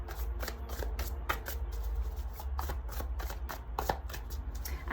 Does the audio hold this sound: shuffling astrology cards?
yes